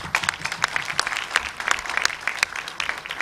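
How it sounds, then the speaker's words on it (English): Audience applause at a music launch event, lively continuous clapping from a crowd with sharp individual claps standing out, loud and close. "Please applaud them."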